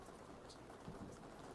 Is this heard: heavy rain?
yes